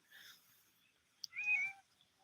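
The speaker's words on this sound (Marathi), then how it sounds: "ही आहे बघा आमची मांजर" A cat gives two soft, short meows at a distance, separated by a brief pause, in a quiet outdoor setting.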